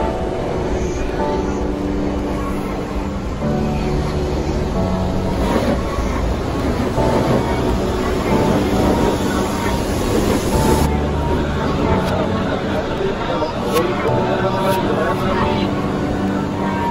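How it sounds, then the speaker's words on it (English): A Japanese Shinkansen bullet train races at full speed, producing a continuous loud roar and rumble with faint rhythmic clatter throughout, heard close and steady. "you must have heard of the super fast Shinkansen or bullet train system"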